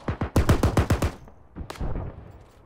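.50 caliber machine gun fire from an AAV during amphibious assault training: a fast burst of about seven heavy, booming shots, then a pause and another shorter booming burst, loud and close.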